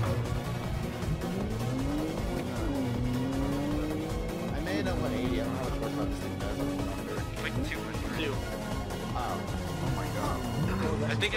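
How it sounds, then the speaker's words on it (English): Racing-game engine whine of a 180-horsepower car drifting in Initial D, with sliding pitch sweeps, a crash-like hit and brief screeching tires, all under continuous excited talk and game music. "I think I'm like having a hard time drifting these"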